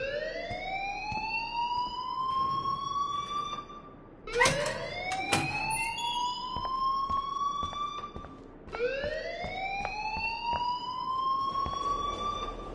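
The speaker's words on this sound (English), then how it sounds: "please turn off that alarm since that's your job" A rising and falling siren-like alarm rings in the Life is Strange video game, sweeping upward in repeated loud cycles with a brief break and sharp clatter midway, then resuming.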